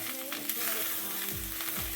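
Minced garlic goes into a pan of softened onions over lowered heat, giving a soft, steady sizzle with light stirring scrapes and no talking.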